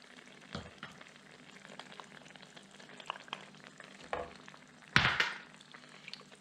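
Spoon stirring tomato paste into chicken stock and white wine in a pot for Cabo Verdean jagacida, soft scraping and liquid movement with a low simmering hiss, a brief louder clatter near the end.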